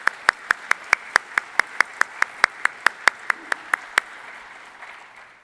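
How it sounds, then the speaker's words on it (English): A single person claps steadily and evenly at an alumni awards ceremony, about three claps per second, for roughly four seconds before stopping, leaving a faint murmur behind. "If we could give another round of applause to the students"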